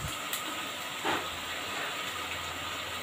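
Dry spices go into fried masala cooking in oil, which sizzles with a constant hiss, and a brief louder burst of sizzling rises as they land.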